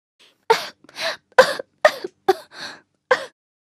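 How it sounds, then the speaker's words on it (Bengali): A voice acting out a storybook character's sudden loud coughing fit, a series of about seven sharp, close coughs with throat clearing, separated by brief silences. "স্নোবাইট হঠাৎ জেগে উঠল আর জোরে জোরে কাশতে লাগলো"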